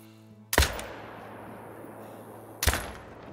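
Two sharp rifle shots from a hunting game in theHunter: Call of the Wild, about two seconds apart, each a loud crack with a brief rolling tail against quiet ambience.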